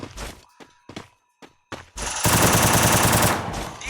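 A Thompson submachine gun fires in the video game Free Fire: a few separate close shots or thuds first, then a loud sustained burst of rapid automatic fire lasting nearly two seconds.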